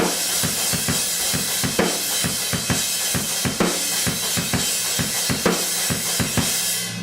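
A rock drum beat with a ringing crash cymbal plays through the chorus of a song, with steady punchy kick and snare hits under the continuous wash of cymbal, loud and close.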